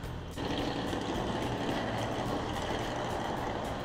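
A truck engine rattling along a road in Tokushima, a rough, dense rumble that rises abruptly after a moment and stays loud and close throughout.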